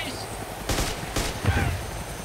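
Two or three loud bursts of gunfire go off in DayZ, sharp separate volleys close together over a steady background hum.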